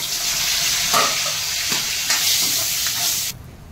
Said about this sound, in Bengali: আমি লঙ্কা ফোড়ন, পাঁচ ফোড়ন আর এই তেজপাতা ফোড়ন দেবো